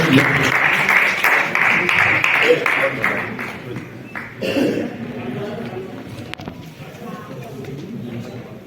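An audience claps together at a felicitation ceremony for newly elected municipal councillors, a dense, steady patter that thins out midway while someone speaks over it through a hall sound system.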